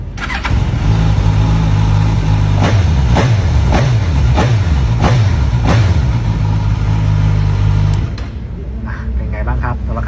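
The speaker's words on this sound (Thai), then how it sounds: "เดี๋ยวเรามาฟังเสียงท่อคันนี้กันนะฮะ" A Suzuki Katana big bike's exhaust idles and revs close by with a deep, steady burbling drone. Throttle blips rise and fall in quick pulses before the engine settles lower, and someone talks faintly over it.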